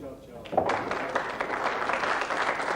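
A crowd at a pool semi-final applauds a long pot, breaking into steady clapping after a short pause and holding it at moderate volume while a commentator talks over it.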